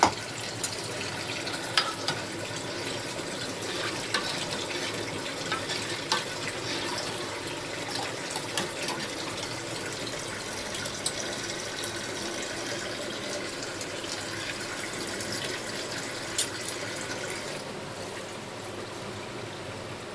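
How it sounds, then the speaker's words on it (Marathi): Water trickles in a steady, unbroken stream into a cooking pot that holds curd, continuing at an even, moderate level for a long stretch with faint clinks now and then. "अजून थोडंसं पाणी टाकते दुधाचं"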